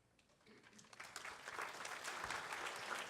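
An audience at a public information meeting about a highway overpass breaks into applause, starting soft and swelling into steady, fairly distant clapping.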